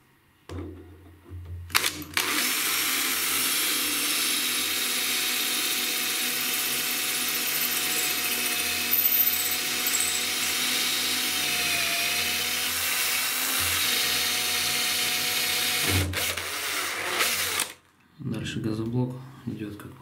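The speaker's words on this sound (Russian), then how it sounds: "Газоблок идет как по маслу. Сейчас я переставлю сверлышко." Power drill boring into an aerated concrete block, a loud, continuous high motor whine with gritty grinding that runs steadily for about fifteen seconds before cutting off, followed by a person speaking.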